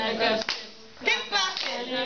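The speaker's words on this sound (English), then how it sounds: "keep clapping" A group clapping along to a periodic table song, with several sharp clap bursts in a short uneven rhythm, fairly close and moderate, with voices chanting over it.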